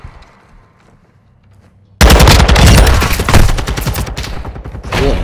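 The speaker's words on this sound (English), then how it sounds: "Shoot his legs, shoot his legs, shoot his legs!" Sudden loud burst of rapid automatic gunfire in Call of Duty: Modern Warfare 2, following a couple of quiet seconds, sustained close and dense for the rest of the moment.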